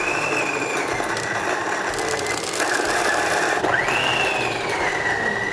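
A coffee grinder grinding fermented Liberica beans, a continuous loud mechanical whirr with a high whining tone that dips and rises as the grind is adjusted, steady throughout without talk.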